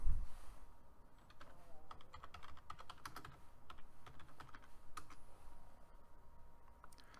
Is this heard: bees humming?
no